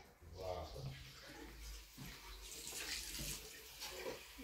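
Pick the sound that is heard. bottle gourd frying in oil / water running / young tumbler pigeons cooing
water running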